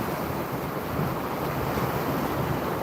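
Ocean surf on a beach at Thanksgiving, a steady wash of waves under wind buffeting the microphone, constant and fairly loud with no voices.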